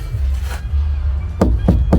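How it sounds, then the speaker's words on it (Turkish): Three sharp knocks on a caravan door fitted with a rubber seal, rapping close and fairly loud over a steady low hum, the last two coming in quick succession. "kapıda bir tok tok sesi veriyor"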